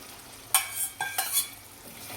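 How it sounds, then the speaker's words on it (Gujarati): Green tuvar beans and steamed muthiya curry are gently mixed in a pan with a spoon, giving a few soft scraping, wet stirring strokes close by. "હળવી હાથે મિક્સ કરી લઈશું."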